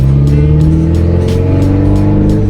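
A deep, booming exhaust drone comes from a Toyota MR2 Spyder running a catless exhaust after its muffler dropped off, loud and continuous from inside the cabin as the car cruises with slight shifts in engine pitch.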